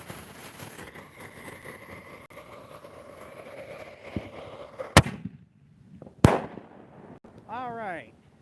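Firework mortar shells bursting outdoors, with two loud, sharp booms a little over a second apart after a stretch of low rumbling, followed by a rising whistling tail near the end.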